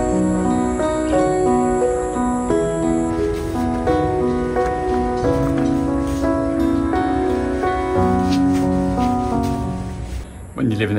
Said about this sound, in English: listen to the birds, the crickets, or whatever that noise is. I think it's grasshoppers,